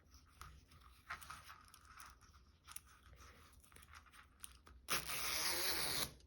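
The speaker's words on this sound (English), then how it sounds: "That is a detachable coat zipper." A detachable coat zipper is handled quietly with faint scattered clicks and rustles, then a short louder rasp of the teeth near the end.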